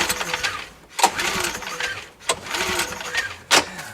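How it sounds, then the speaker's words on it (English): A cheap Lowes generator engine with heavy blow-by is cranked by its pull starter cord. Three sharp, rasping pulls come about a second apart, close and moderately loud, with someone talking throughout. "have a look at what happens to it when I pull the starter cord"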